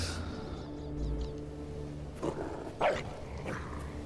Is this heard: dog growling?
yes